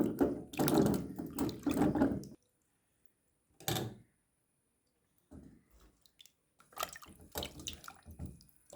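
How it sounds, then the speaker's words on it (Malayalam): Water sloshes and splashes nearby in uneven bursts, like produce being rinsed by hand, separated by stretches of near silence. "നല്ല പച്ച വെള്ളത്തിൽ കഴുകി"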